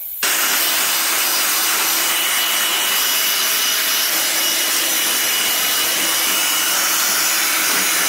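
A valve is cut out of a freezer's refrigeration line, giving a steady, loud, close rushing hiss of cutting that starts abruptly and runs unbroken without pauses or talk.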